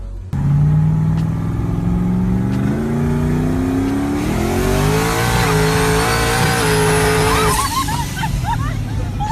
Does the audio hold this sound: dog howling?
no